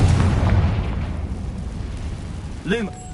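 A Confringo blasting curse detonates in Hogwarts Legacy, a loud, deep boom that rolls off from the start and fades, followed near the end by a shorter burst with a rising whoosh; a voice speaks underneath.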